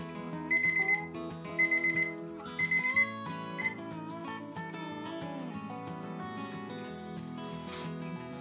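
A kitchen timer is set while baguette dough rises, giving a few short bursts of bright electronic beeps, then a steady run of tones that carries on to the end.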